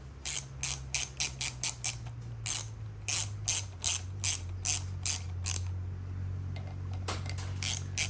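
A ratchet fitted with an 8mm socket runs bolts down during a cam replacement on a 2019 Troy-Bilt 19hp Intek engine, giving rapid bursts of crisp metallic clicking in quick repeated strokes, up close over a low steady hum.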